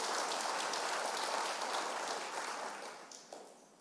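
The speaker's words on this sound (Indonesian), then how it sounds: "Berikan tepuk tangan bagi nama Tuhan." A church congregation applauding together at a Sunday service, a dense wash of clapping that stays full for a few seconds before gradually thinning and fading out.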